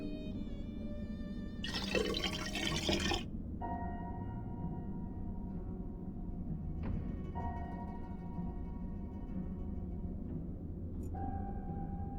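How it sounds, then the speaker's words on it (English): Water poured into an empty pot in the game Black Mirror III, a short, bright splashing burst of about a second and a half over a steady low hum and soft background music. "I'll just pour in a bit of water."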